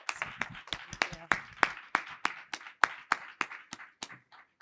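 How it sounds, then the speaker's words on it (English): Sparse, evenly spaced claps at a summit partnership session, a handful of hands beating out single crisp strikes, close and fairly quiet, tapering at the end. "another round of applause for School of the World Community Schools"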